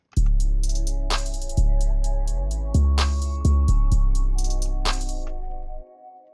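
A trap beat plays alone: heavy sustained 808 bass notes, sharp snares layered over claps, and crisp open hi-hats ticking in a steady rhythm.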